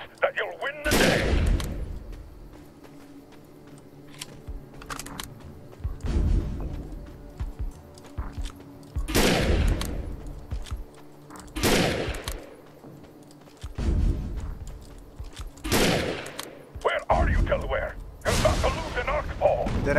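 Gunfire in the PC beta of the video game Defiance, with repeated loud bursts of shots in clusters across the clip, a steady game backdrop between them, and a voice occasionally talking.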